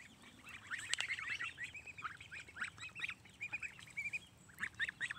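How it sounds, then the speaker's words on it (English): Many small ducks peep and quack in rapid, overlapping bursts, a busy chattering chorus heard from fairly close. "The little baby ducks are so cute"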